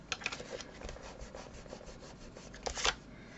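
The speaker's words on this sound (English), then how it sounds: "So let me just rub them out." Pencil writing being rubbed out with an eraser on a photo frame album page, a run of quick scratchy scrubbing strokes with a louder burst near the end.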